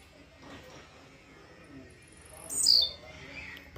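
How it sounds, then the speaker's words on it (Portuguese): A blue-black grassquit (tiziu) sings a short bright call midway, outdoors in Jacarepaguá, Rio de Janeiro, faint against low background rumble. "Passarinho sempre cantou fácil."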